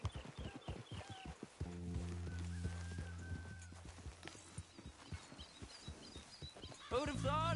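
Horse hooves clip-clop in a steady walking rhythm in Red Dead Redemption 2, close and fairly loud, with a sustained tonal hum joining partway and a brief whinny-like call near the end.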